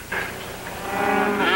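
Cattle low in a film scene, with a drawn-out moo swelling in loudness toward the end over a faint background.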